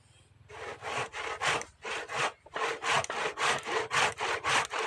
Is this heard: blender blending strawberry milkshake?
no